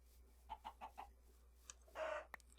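Clucks from a chicken in the Terrafirmacraft game: four quick, evenly spaced clucks, a short pause, then a brief squawk and a sharp click, fairly clear against a quiet background.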